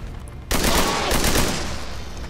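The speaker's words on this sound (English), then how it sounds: "Let's try this flank shot with Vasquez." Loud gunfire from a flank shot in XCOM 2 erupts abruptly after a quiet moment, a dense crackling volley that fades slowly over the next two seconds.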